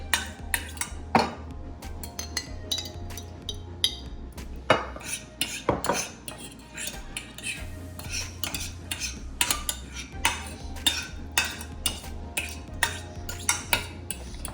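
Fork scraping and scooping a baked ziti mixture with cottage cheese around a baking pan, giving a steady run of close metallic clinks and scrapes with no talking.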